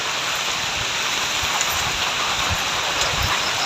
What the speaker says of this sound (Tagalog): Dahil umuulan, basa yung ating cellphone.